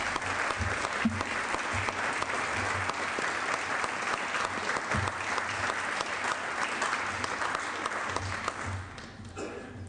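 Applause in a Senate chamber during a floor session, a sustained round of clapping from many people that carries on steadily for several seconds before tapering off at the end.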